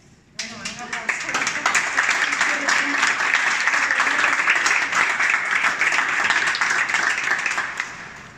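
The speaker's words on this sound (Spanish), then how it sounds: "un aplauso" Audience applause at an exhibition opening, starting abruptly and filling the room as a dense, sustained clapping from a sizeable crowd, loud and even before tailing off slightly at the end.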